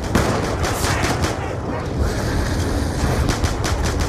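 Rapid automatic MTAR rifle fire in a Call of Duty zombies match on the Nuketown map, a dense, loud stream of shots with explosions and game sounds mixed in.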